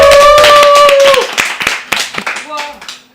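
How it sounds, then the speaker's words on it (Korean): A short burst of several hands clapping welcomes a Korean-language teacher onto a high school student radio broadcast, starting loud over a lingering voice and then thinning into scattered, fading claps. "박수로 맞이해주세요."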